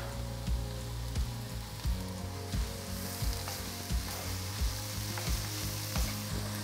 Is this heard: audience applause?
no